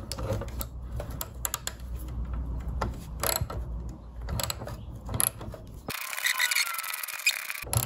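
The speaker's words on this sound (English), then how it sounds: "So to get the board out, what we've got to do is just take this nut off." Nut being worked off to free the circuit board of a Vectrex console under repair, heard as close ratcheting and scraping metallic clicks in irregular bursts, with no talking.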